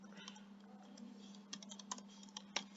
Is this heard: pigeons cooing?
no